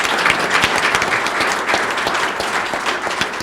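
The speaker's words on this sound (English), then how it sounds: "Can we have a round of applause for him?" A campus audience claps loudly and continuously for a university president at a formal event, close dense applause with no talk over it.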